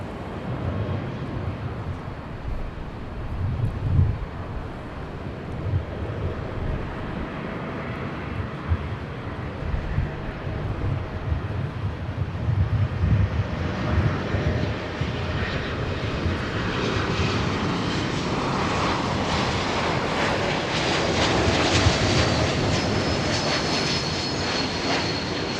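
An airliner takes off from runway 24 left at Los Angeles International Airport, its jet roar rumbling low and distant at first, then swelling into a louder, broader sustained thrust over some twenty-five seconds.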